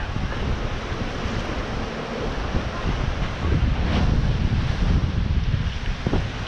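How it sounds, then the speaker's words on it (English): Rough ocean waves wash and surge around a boat while wind buffets the microphone, producing a dense, continuous roar that swells louder midway, with no voices. "We've got some rough waves today."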